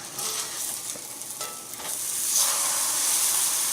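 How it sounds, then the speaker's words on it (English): A grilled cheese sandwich sizzles in a hot frying pan with a steady, crackling hiss that swells louder toward the end, with a few brief scrapes along the way and no talking. "Frying pan's nice and hot, let's get that grilled cheese on."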